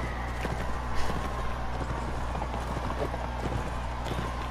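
Galloping horse hooves in the Mount and Blade video game, a steady run of clip-clop beats under continuous battle ambience with low background noise, one louder thud near the start.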